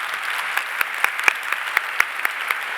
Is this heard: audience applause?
yes